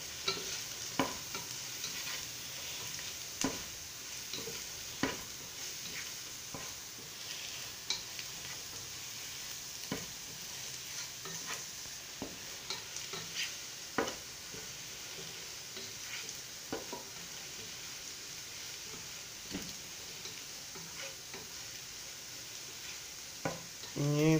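Horse gram thoran with onion and masala frying in a pan, a long steady sizzle under frequent soft scraping and tapping of a spoon as it is stirred, fairly faint and close.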